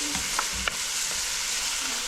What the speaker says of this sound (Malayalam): അതിലേക്ക് ഞാൻ ചതച്ച് വെച്ചിരുന്ന ഇഞ്ചി വെളുത്തുള്ളി പേസ്റ്റ് ഒന്ന് ഇട്ട് കൊടുക്കുകയാണ്